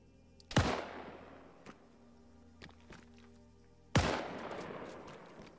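Two sharp gunshots boom in a zombie video game, the first near the start and the second about three seconds later, each with a decaying tail, separated by faint clicks and scattered in-game noise.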